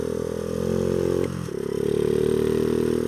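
A Honda Z50 minibike engine runs loud and steady nearby, dipping briefly as the throttle drops for a short pop wheelie, then picking back up into a buzzing drone.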